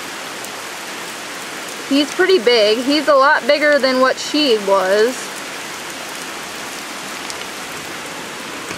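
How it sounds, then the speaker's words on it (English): Heavy rain pours down in a flash flood as a dense steady hiss that fills the whole stretch, while someone talks over it in the middle. "Pouring the rain down. I think we're having a flash flood here"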